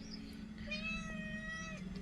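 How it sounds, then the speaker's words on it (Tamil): A kitten meows in one long, drawn-out, moderately loud cry, with a couple of fainter mews before and after, over a low steady background hum. "பூனைக்குட்டிக வந்து வந்து இதுக்குள்ளே தான் இவங்க லவ் பண்ணுறது"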